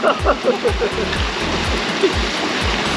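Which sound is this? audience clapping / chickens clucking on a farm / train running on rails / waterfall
waterfall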